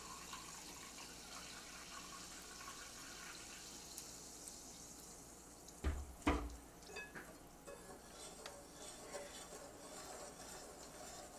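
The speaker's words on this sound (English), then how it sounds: "I'm going to add a cup of seltzer water." Seltzer water poured from a container into tempura batter for pretzel-coated shrimp, a quiet fizzing trickle with a short louder splash in the middle, heard close with no talk.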